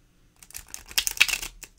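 Tarot cards are riffled and shuffled by hand, a brief burst of crisp, papery flutters and snaps close up after a moment of silence, ending with a quieter tap.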